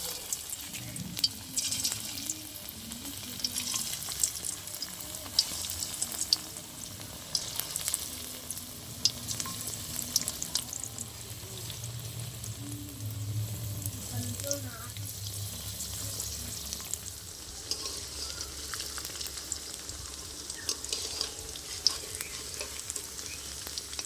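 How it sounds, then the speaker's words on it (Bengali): Mustard flower and coconut fritters frying in hot mustard oil make a steady close crackling sizzle, with occasional stirring and faint background voices. "ভালো করে লাল লাল করে ভেজে নেব বড়াগুলো।"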